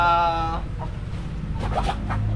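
Chickens cluck and call close by, a sharp squawk at the start followed by softer scattered clucks over a low background rumble.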